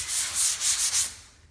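A sanding block rubs across drywall in several short back-and-forth strokes, a close, dry scraping rhythm that tapers off at the end.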